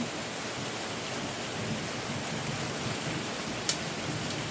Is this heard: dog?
no